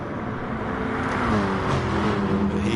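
Racing cars in a video game roar down the start-finish straight, a steady loud engine drone with rising pitch as they pass in a slipstream pack, continuous throughout.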